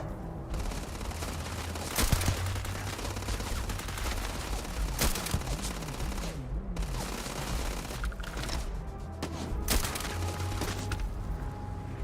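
Rocket launcher fire in Starfield: several sharp, loud blasts a few seconds apart, each with a booming impact and crackle, over a constant rumbling backdrop of combat noise.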